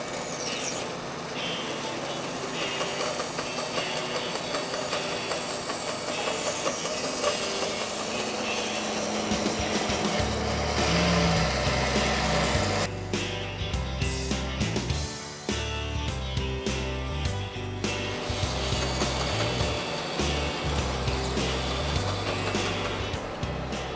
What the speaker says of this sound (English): Just stay outside the line and cut it, follow it on the bandsaw.